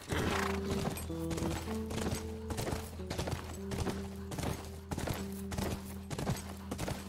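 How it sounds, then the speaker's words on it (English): A horse rides through the woods in The Last of Us Part II, its hooves clopping in a steady repeating rhythm over a constant low background tone, close and clear throughout. "Bet you guys didn't expect a nice little horse ride through the woods today."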